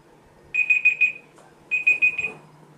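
A Google assistant timer alarm goes off in two bursts of bright, rapid electronic beeps, about four quick tones each, close and clear over a quiet room.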